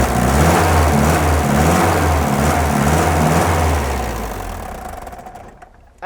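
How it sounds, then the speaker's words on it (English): Toyota Land Cruiser BJ40 with its small 4-cylinder B engine idling close up, a loud steady throbbing rumble that fades near the end before a brief bump. "she hums along for a little 4-cylinder"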